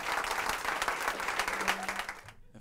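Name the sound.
audience applause for a band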